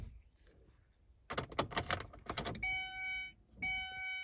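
A vehicle engine starting: a short burst of rough cranking and catching, then steady electronic beeps from a connected diagnostic scanner. No talking.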